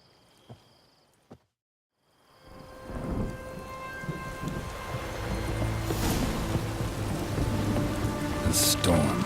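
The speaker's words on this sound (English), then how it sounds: "A storm, damn it." A rainstorm with thunder in The Witcher 3: Hearts of Stone video game: a brief silence, then steady rain swells in with low rumbling thunder underneath, growing denser and louder.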